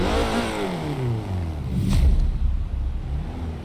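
Porsche 944 Turbo engine in Forza Horizon 3 revving hard and accelerating, a loud, close turbocharged growl climbing in pitch in rising sweeps, with a sharp surge near the middle as the wheels spin.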